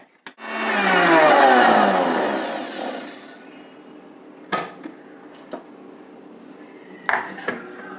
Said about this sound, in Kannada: ಇವಾಗ ಬೆಲ್ಲ ಸೇರಿಸ್ತೀನಿ ಮತ್ತೆ ಮಿಕ್ಸಿ ಮಾಡ್ಕೊಳ್ತೀನಿ